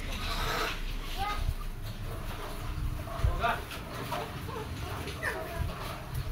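Puppies whimpering close by in short, thin cries scattered through the clip, mixed with people talking nearby and a steady background hum.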